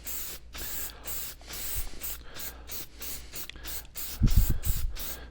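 Shellac finish goes onto sanded mahogany in repeated brushing or wiping strokes, a rhythmic swishing hiss with short pauses between strokes, ending in a few louder, lower rubbing thumps.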